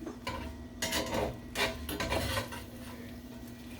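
Spatula scraping and turning eggs in a metal frying pan, giving several brief clattering scrapes and clinks over a faint steady sizzle, close by with no talking.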